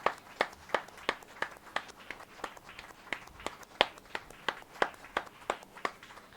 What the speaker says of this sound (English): A great applause to the sub 20 of Israel, to Yahweh's bride.